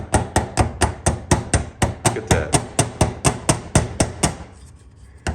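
A hammer strikes a broken Clopay garage door latch in a workshop, with about seventeen sharp, evenly spaced metallic blows at a steady rhythm, loud and close, then a pause and one last tap, with a brief spoken word.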